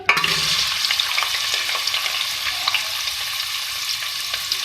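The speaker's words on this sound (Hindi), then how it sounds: "इसको फ्राई करेंगे" Small beef pieces sizzle steadily in hot oil in a pan, with a dense crackling hiss and occasional scrapes and taps of a stirring utensil, heard close and without speech.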